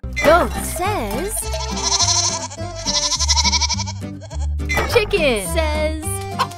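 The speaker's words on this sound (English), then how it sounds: "Goat says..." A goat bleats in a series of loud, wavering cries, several bleats in a row over background music.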